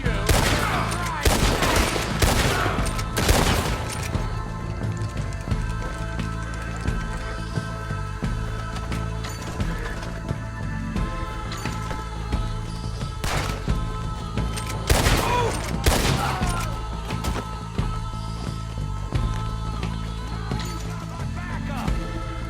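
Gunfire in a Red Dead Redemption 2 shootout with moonshiners near some huts: repeated loud volleys and rapid bursts of shots over a constant rumbling game bed, with voices speaking between them.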